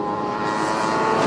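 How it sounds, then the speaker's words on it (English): Race car engine at a hillclimb, a loud, steady high-pitched roar held close by for a moment as the car passes at full throttle. "Listen, a slightly smaller car as well."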